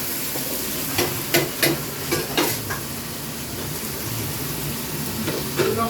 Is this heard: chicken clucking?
no